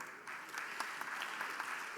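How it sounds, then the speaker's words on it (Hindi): Thunderous applause from a large audience at a book launch event in Kashi, dense steady clapping sustained throughout with faint voices mixed in. "ये गड़गड़ाती हुई तालियां और उठे हुए सिर इस बात को प्रमाणित करते हैं"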